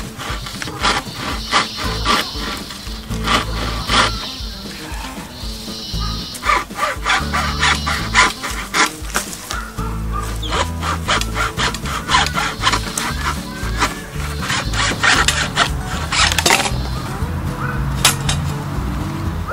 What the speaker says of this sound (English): All I'm going to do is cut a notch with this saw